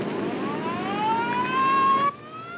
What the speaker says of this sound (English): We picked up a police car.